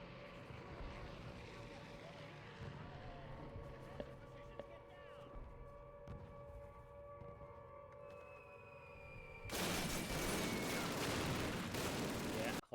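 MG42 machine gun fire in Call of Duty (2003), a dense, loud continuous burst erupting near the end after a quieter stretch of engine-like drone and talk.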